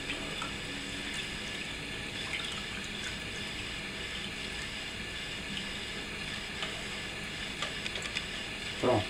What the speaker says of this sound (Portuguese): é só coar o nosso extrato aqui.